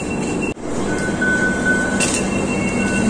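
A Hong Kong light rail train on route 507 runs loud and close with a rumbling roll, a sudden brief dropout, then steady wheel noise under thin high squealing tones.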